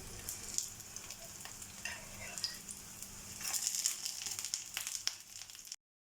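Jalebi frying in hot oil as the pieces are turned over, a continuous close sizzle and crackle with light scraping and stirring, ending abruptly, no talking.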